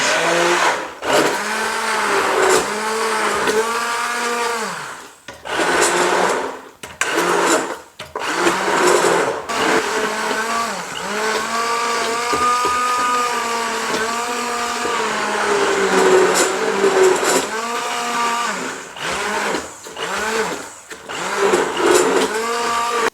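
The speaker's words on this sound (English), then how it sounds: "I've whizzed this up lovely, and it's turned into a very nice smooth soup with the stick blender." A stick blender whizzes homemade broccoli and carrot vegetable soup, its motor whining loudly in long bursts with short pauses between, pitch dipping as it works through the soup.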